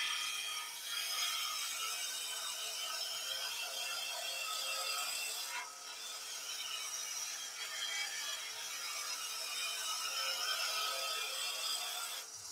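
A skew chisel cutting straight on into wood spinning on a lathe while turning birds, with the bevel rubbing, gives a continuous bright rasping, whirring hiss, close and steady throughout with a brief dip midway, and no voices.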